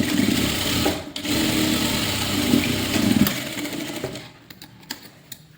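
Sewing machine stitching a blouse front piece with a steady close mechanical whir for several seconds, then stopping, followed by light handling clicks.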